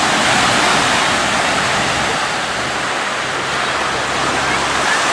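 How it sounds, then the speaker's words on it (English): Ocean surf breaks on a beach, a loud, continuous wash of crashing and hissing water that fills the whole recording without pause. "I hope the sound of the surf gets on this recording."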